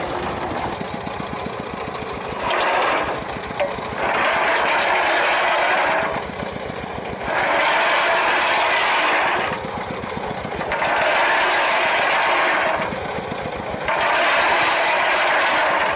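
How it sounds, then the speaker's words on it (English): Engine-driven ball mill crushing gold ore at a small-scale mine in Kenya, a steady mid-pitched engine drone with a rhythmic churning roar that swells and eases in regular cycles every few seconds, close and continuous with no talk. "Right here tightens up the belt and engages the ball mill."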